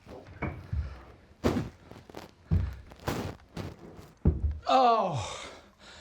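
A sofa is moved and bumped through a house, giving a series of heavy, irregular thuds and knocks close by, followed by a vocal exclamation.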